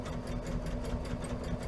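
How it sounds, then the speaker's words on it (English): A sewing machine backstitches along a tote bag seam, running as a steady, close, continuous whir for the whole short stretch. "So I am going to backstitch at the beginning"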